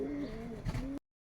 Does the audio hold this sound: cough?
no